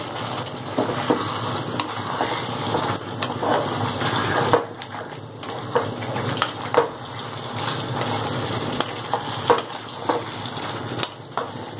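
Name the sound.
marinated chicken sautéing in a pan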